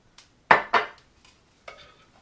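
A Danish dough whisk stirs pancake batter in a bowl, giving a few sparse, short scraping clicks and soft knocks, two louder strokes close together, then quieter ones.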